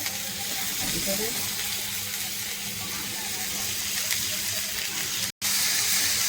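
A pan of spicy sprouted moong misal sizzles and bubbles steadily as it is stirred, a close continuous hiss with light scraping and a brief sudden cut near the end.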